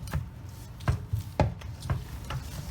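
Pie dough for a coconut cream pie being worked by hand in a bowl after a spoonful of water is added, giving soft, irregular thuds and squishes, several distinct pressing sounds close by with no talking.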